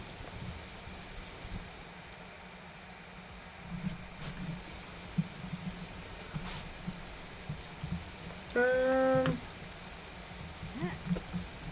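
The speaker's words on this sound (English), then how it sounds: "It's raining again." Steady in-game rain in Paradise Killer, a soft continuous hiss of drops falling on surfaces, with a brief electronic tone cutting in near the end.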